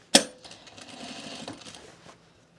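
A sewing machine stitches a pair of pants, opening with a sharp clack, then running a short, light burst of stitching that fades out after about two seconds.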